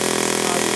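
A Saito FA-80 four-stroke model airplane engine runs steadily at close range, giving a continuous buzzing drone with an even, rapid firing rhythm and no voices.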